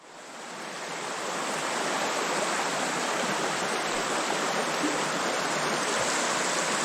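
The Savage River flows in a steady, broad rush of water at a low-pressure stretch, fading in over the first couple of seconds and then holding a constant, close hiss with no voices.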